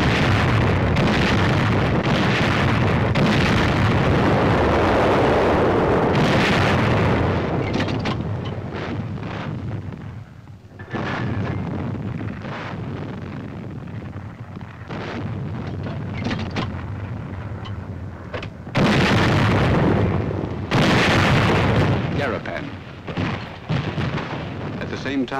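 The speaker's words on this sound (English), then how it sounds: "Army artillery goes into action." Army artillery firing in the WWII battle for Garapan on Saipan in the Marianas, 1944: loud, sustained booming blasts and rumbling with wind-like roar, heavy bursts throughout and especially strong near the end.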